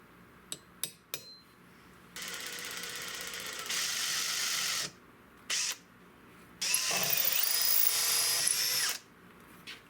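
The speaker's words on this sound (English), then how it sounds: "I drill a bigger hole that's about the outside diameter of the threads down in just a little bit" A power drill whirs in two sustained bursts, boring a wider hole for threads in a 16-gauge gun, separated by short clicks and handling knocks, close and loud, with a quiet pause between.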